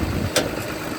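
A 2016 Komatsu PC240 LC-11 excavator engine running smoothly, a steady low idle rumble up close with a brief sharp click partway through.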